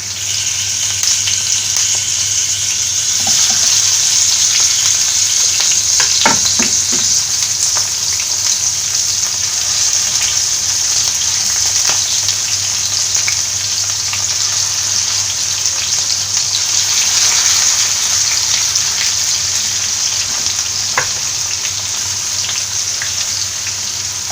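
Mullan fish frying in hot oil with curry leaves, Kerala style, a loud, continuous close sizzle with faint crackles and a few light clicks, no voices.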